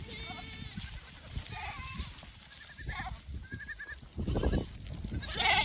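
Several goats bleat repeatedly at moderate distance on a Minnesota farm in December, their wavering cries overlapping amid low rustling and outdoor background noise.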